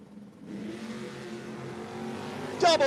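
No-box drag race cars launching off the line at a 660 shootout, a loud, close, sustained engine roar building steadily, with a sharp rising whine and tire noise bursting in at the very end.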